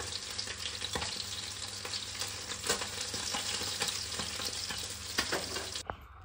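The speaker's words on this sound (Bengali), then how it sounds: "চলো মাছগুলো ভাজছি এখন।" Fish frying in a pan, a steady close sizzle with occasional stirring scrapes, sounding alone with no talk.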